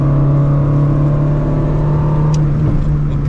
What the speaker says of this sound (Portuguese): de quinta, full pedal, vejam só como o carro vem crescendo